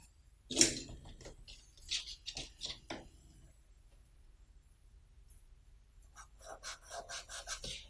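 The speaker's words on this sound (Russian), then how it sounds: "Если вам не нравится этот звук, тогда пастельные карандаши не для вас." Pastel pencil strokes rasping on paper during a cupcake drawing, with a loud scrape at the start, scattered short strokes, a quiet pause, then rapid repeated scribbling at the end.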